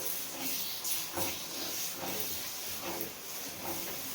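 Paneer curry masala frying over high heat, with a steady, faint hiss of sizzling oil that continues without a break, no voices.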